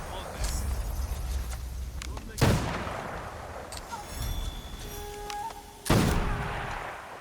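Teppo matchlock rifle fire in the video game Assassin's Creed Shadows: two loud, sharp booming shots a few seconds apart, each trailing off, over a steady game background with a voice talking throughout.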